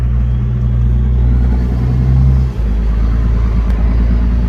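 Nissan GQ Patrol with lockers engaged crawling slowly over sand, a steady low engine rumble close by that briefly dips before settling back to a smooth idle-like drone.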